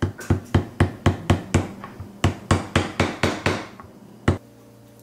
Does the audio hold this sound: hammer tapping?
yes